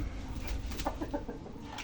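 A purebred chicken clucks in a few short, close bursts against a steady background hum, with no talking heard.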